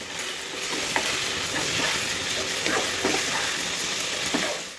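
Turmeric and cumin powder sautéing in oil, a loud, steady sizzle with scraping stirs against the pan, close and continuous, no one talking.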